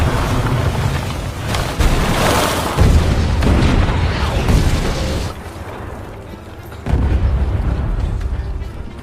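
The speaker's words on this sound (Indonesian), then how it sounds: "Letnan Jerman pergi ke parit Prancis untuk memberitahu kalau parit mereka akan dihujani artileri Jerman" German artillery shelling French trenches in the First World War film Joyeux Noël: heavy booming explosions rolling one after another over a rumbling battlefield, loud and close, with a brief lull before another blast.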